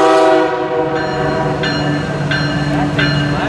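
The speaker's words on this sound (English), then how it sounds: "That sounds like a horn from a Dash 8." A GE Dash 8 locomotive horn on a CSX freight train at a railroad days event blasts loud and close in several sustained multi-tone soundings, with a brief voice underneath.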